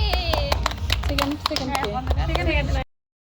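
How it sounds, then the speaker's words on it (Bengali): A group of people claps at an outdoor December 16 picnic where prizes are handed out for children's games. The applause is brisk and uneven and stops abruptly, with voices talking loudly over it. "সবাই একটু তালি দাও।"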